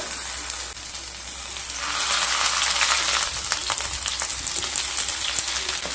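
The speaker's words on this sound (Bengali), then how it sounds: "তেলটা গরম হয়ে গেছে। এবার লাউ পাতাগুলোকে দিয়ে দেব।" Bottle gourd leaves laid into hot oil in a pan, with a steady close sizzle that swells louder and brighter after a couple of seconds and keeps crackling with no voices.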